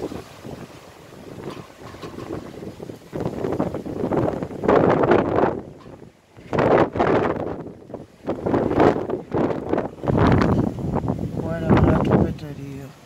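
Strong gusts from storm Carmen in Le Mans roar across the microphone in surging waves, rising and falling between loud bursts, with a person talking underneath.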